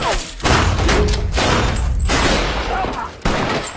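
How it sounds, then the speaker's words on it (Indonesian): Rapid bursts of gunfire crack and thump back and forth between police and criminals, dense and loud, with brief gaps between volleys. "terjadilah baku tembak antara polisi dan penjahat"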